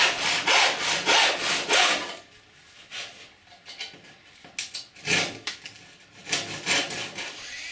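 Rhythmic back-and-forth strokes of a hand saw cutting wood, steady for a couple of seconds, pausing, then resuming in short bursts, close and fairly loud.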